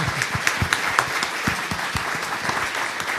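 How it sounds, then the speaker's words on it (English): An audience applauds the Consul General at a Chinese University of Hong Kong lecture: close, loud clapping with distinct individual hand strikes popping out of a full round that carries on steadily throughout. "Let us give the Consul General another big applause."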